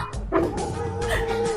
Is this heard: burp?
no